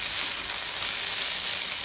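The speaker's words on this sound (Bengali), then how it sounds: "গাছে তাজা তাজা সবজি এনে ভাজা বসিয়ে দিয়েছি, আর কি সুন্দর গলছে লুবিয়া গুলা" Fresh vegetables and cowpeas fry in a pan with a dense, steady sizzle close by, unbroken and with no talking.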